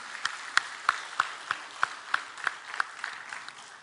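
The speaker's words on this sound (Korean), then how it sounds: "우리 박수로 하나님께 한번 영광 돌리세요." A church congregation claps in slow unison, about a dozen distinct, evenly spaced claps in a fairly quiet room, with no talking over them.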